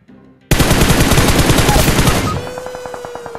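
A sudden burst of sustained automatic gunfire in the game PUBG erupts after a quiet start, loud and rapid, then drops to a lighter trailing rattle of shots with a ringing tone.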